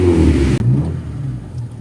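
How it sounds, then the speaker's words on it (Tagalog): A 1996 Honda Civic LXi with automatic transmission revs its engine, a loud, close mid-pitched roar that cuts off abruptly after about half a second and leaves a softer idle. "At yung tunog ng makina, pakinggan nyo."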